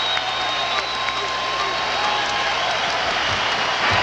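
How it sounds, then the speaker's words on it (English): A sellout basketball arena crowd rises in a standing ovation at an NBA playoff game between the Suns and Lakers, with sustained loud applause and cheering filling the space while a commentator talks over it. "And initiate a standing ovation from a sellout crowd."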